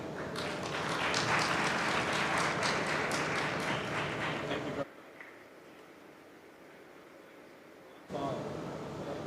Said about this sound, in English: Another round of applause, please, for his presentation.